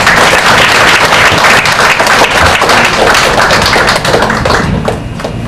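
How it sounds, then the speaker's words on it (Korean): A church congregation at a pastor's installation service applauds to welcome the pastor, with loud, sustained, close clapping and some thumps continuing throughout before easing slightly at the end. "여러분 박수로 환영해 주시기 바랍니다"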